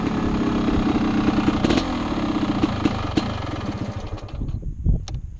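A Honda CR 500 two-stroke dirt bike engine runs with a loud, close, throbbing pulse that stutters and fades toward the end, as if it is struggling to idle, heard on its own.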